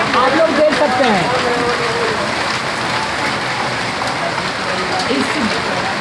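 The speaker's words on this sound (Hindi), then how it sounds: "देखिए कितने ओले पड़ रहे हैं" Hailstones pelting a road in Delhi during a storm, a dense continuous rattling hiss of ice striking pavement, fairly loud and close, with someone talking over it at the start.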